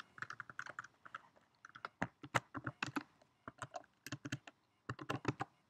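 Close, crisp keystrokes typing code on a computer keyboard, arriving in quick irregular bursts with brief pauses between runs.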